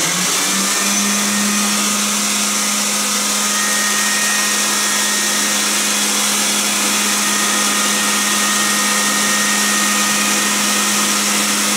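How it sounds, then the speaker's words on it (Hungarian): A vacuum cleaner set to blow air, or a hair dryer, runs with a loud, steady whooshing drone and a constant low hum, unbroken for about twelve seconds. "Ha veszünk egy porszívót, amelyik éppen most nem szívja a levegőt, hanem fújja, vagy akár egy hajszárítót"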